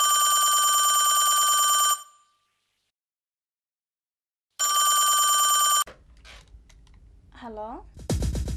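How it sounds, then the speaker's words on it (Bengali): A telephone rings after redial is pressed, a loud electronic trill lasting about two seconds, then silence, then a second ring burst, followed by handset clatter and a voice. "আমি রিডায়াল একটা চাপ দিয়ে দেখি, ও যদি রিসিপশনে ফোন করে থাকে তাহলে তো রিসিপশনিস্ট ফোন ধরবে।"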